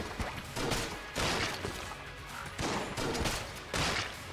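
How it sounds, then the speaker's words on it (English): Shotgun blasts fire in the video game Enter the Gungeon, several bursts in a loose rhythm, each a short noisy crack with quieter game sounds between. "Some of the shotgun shots are homing."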